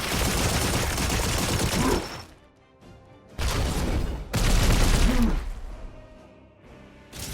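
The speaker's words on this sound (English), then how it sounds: "Opening fire." Sustained video-game gunfire from a Warhammer 40,000 battle against Nurgle forces, loud and dense bursts in two long volleys separated by a brief lull, ending with fainter rattling.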